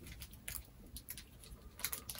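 Someone biting into a crunchy Butterfinger peanut chocolate bar, giving a few sharp, close crunches followed by quieter chewing, with a cluster of crisp snaps toward the end.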